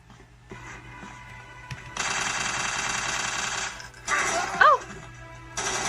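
Video game weapon fire played on an HP 15s-EQ1117AU Ryzen 5 budget laptop, sounding as long sustained bursts of rapid automatic gunfire with short gaps between them, loud and steady throughout.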